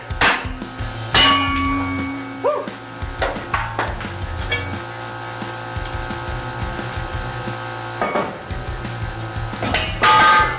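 Loud metallic hammer blows ring out at irregular intervals as rock sliders are beaten off a Toyota truck's steel frame, over a steady engine-like drone, with a brief exclamation from a voice.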